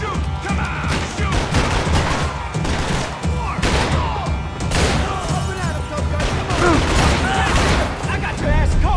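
Heavy gunfire from Max Payne 3 rattles in loud, sustained bursts with booming impacts and crashes, while voices shout urgently over the shooting.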